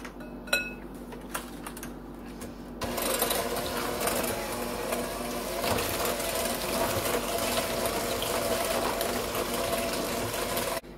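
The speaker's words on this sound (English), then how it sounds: "you're going to beat this with an electric mixer until smooth" Electric mixer beating granulated sugar with cream cheese for cheesecake brownies, starting with a few faint clicks, then a steady, fairly loud whirring drone that runs without pause for about eight seconds.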